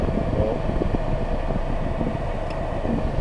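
A car's ventilation fan blows on its lowest setting with the engine idling, giving a steady, even whoosh and low hum with no voices.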